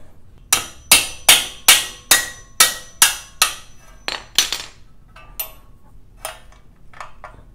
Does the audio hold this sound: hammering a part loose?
yes